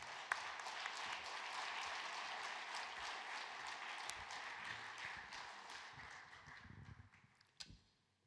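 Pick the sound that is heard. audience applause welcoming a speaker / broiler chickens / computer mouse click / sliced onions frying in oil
audience applause welcoming a speaker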